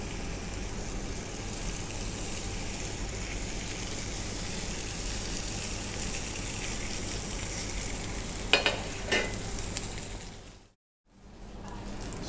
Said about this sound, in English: Now into this pan I'm going to add the bacon.